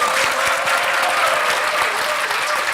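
Loud, dense applause from a crowd at a political event for mayor Lee Jae-myung, a continuous close-sounding wash of clapping lasting a few seconds.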